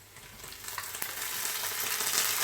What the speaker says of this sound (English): I want my tomatoes to like fry out nicely